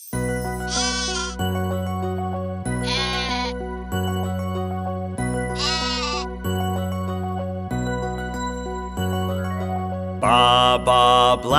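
Four bleating sheep calls, spaced apart and rising over a simple, bouncy musical backing with steady low notes.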